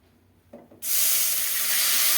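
Rice-flour batter poured into hot sesame oil bursts into a loud, sustained sizzle right after a few soft knocks, close and steady with no talking.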